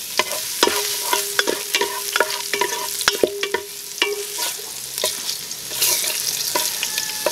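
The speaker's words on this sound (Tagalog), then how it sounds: "Unahin ko lang muna tong sili para lumabas na kaagad yung anghang. Yan, sabay ko na si bawang." Chili and garlic sautéing in a pan, a continuous frying sizzle broken by repeated sharp scraping and stirring knocks of a utensil against the pan, close and clear with no talk.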